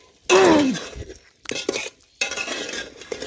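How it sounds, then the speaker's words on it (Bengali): A spoon stirs spices in a pan for vegetarian khichuri, with short metallic clinks and scrapes in separate bursts after a brief wavering tone at the start. "দেখুন নাড়াচাড়া করে নিচ্ছি"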